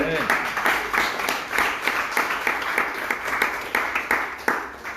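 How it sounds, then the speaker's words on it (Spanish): Church congregation claps in praise to the Lord during a Spanish-language Bible service, a moderate rhythmic patter of hands over a low room hum, with some voices mixed in. "Podemos dar un aplauso al Señor."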